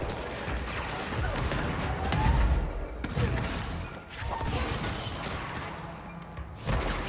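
Gunfire from a service weapon with a shotgun attachment in the action game Control: a few loud, sharp blasts at close range, mixed with crashing impacts and dense combat noise, with no talking.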